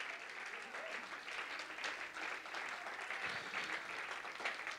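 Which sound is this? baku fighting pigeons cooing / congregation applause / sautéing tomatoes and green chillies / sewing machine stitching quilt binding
congregation applause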